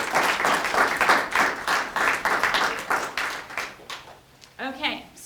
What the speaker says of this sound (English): We can give them one more round of applause for sharing their tales.